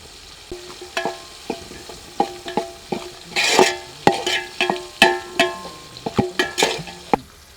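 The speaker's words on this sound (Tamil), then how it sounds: "இப்போ காரத்துக்கு தக்க பச்சை மிளகாய் சேர்த்துக்கோங்க." Green chilies stir-fried in a pan for chicken liver pepper fry give off a low sizzle, broken by a string of sharp spatula clacks and scrapes in an uneven rhythm.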